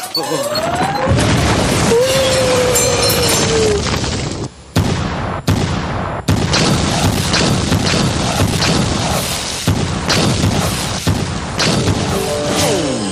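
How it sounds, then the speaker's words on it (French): A chaotic run of loud booms and crashing blasts in a Sonic cartoon, with sharp percussive bursts like gunfire and rumbling debris, dense and close throughout. "ça va faire boum d'un instant à l'autre"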